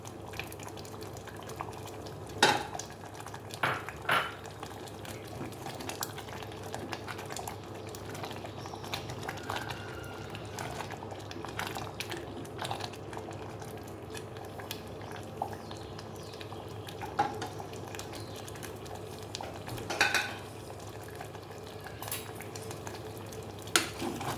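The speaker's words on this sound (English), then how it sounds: "am adding our cashew and kismis." Cashews and raisins frying in a pan for sweet pongal, a low bubbling sizzle under scattered scrapes and clinks of a spoon stirring against the metal.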